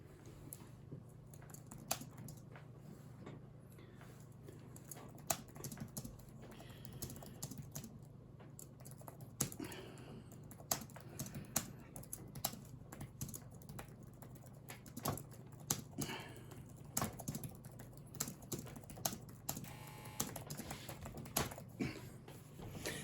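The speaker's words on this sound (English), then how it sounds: "let's have a go at typing on this then" Steady typing on a Logitech Slim Folio keyboard case for iPad, a continuous patter of light clicks at close range over a low background hum.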